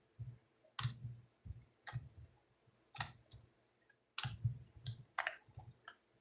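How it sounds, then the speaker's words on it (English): Tarot cards being shuffled quickly, heard as a series of sharp, close card clicks and flicks in irregular bursts with short pauses between them, with no talking. "Let me do a little quick shuffle here."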